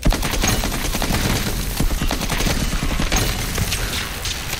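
Rapid, dense gunfire from the survival horror game Daymare: 1994 Sandcastle, loud and close with a continuous stream of sharp shots over nearly five seconds and no voices.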